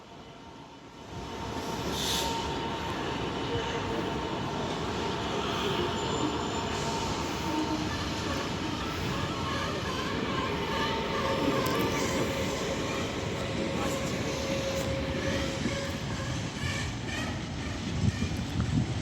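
Class 66 freight locomotive 66023, working from Wakefield to Felixstowe, rolls through Peterborough station with a steady loud rumble of wagons, rattling wheels and occasional squeals that build and hold throughout.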